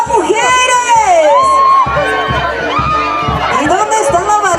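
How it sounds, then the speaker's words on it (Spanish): A loud crowd of women at a baptism party lets out sustained shrieks and whoops with high, wavering voices, filling the clip over a thumping beat. "¡Un grito tan fuerte a todas las mujeres!"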